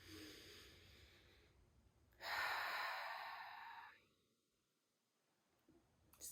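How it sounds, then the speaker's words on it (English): One slow, deep breath is drawn in a quiet room during a guided meditation: an audible, close inhale that swells and fades over about two seconds, followed by near silence. "You can just take a moment and take a breath with me."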